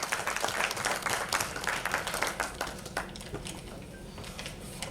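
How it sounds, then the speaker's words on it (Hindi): An audience at a national party convention in Mumbai claps to welcome a speaker, a dense, fairly loud burst of hand claps that stays steady and slowly thins toward the end. "जोरदार ताली बजा करके स्वागत करें आप"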